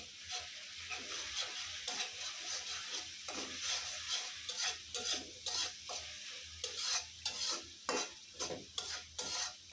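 Tuna fish bhuna cooks in a pan with water and turmeric, stirred with a utensil. Repeated rhythmic scraping strokes sound over a soft, close sizzle, with no one speaking.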